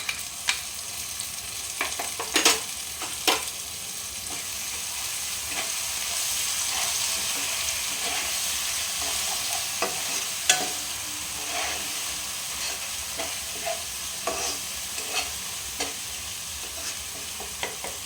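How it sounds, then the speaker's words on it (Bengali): Tomato paste frying and being stirred in a pan while cooking chana masala with kabuli chickpeas, a steady soft sizzle with occasional scraping clicks of the spoon, close and moderately quiet, no talking. "এরপরে এটা টমেটোটা যেটা পেস্ট করে রেখেছিলাম সেটা দিয়ে দেবো"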